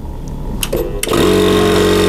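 An air compressor for charging air rifles starts up after a couple of faint knocks, then runs loud and steady with a continuous mechanical drone as it builds pressure toward about 2400.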